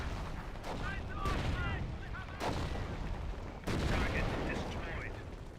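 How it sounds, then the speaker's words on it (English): Main-cannon shots from a Hotchkiss tank in the Company of Heroes video game boom out three times at spaced intervals, sharp loud blasts over continuous battlefield rumble, with scattered chirping effects between them. "Oh, got a Hotchkiss firing away. And it's also firing with its main cannon."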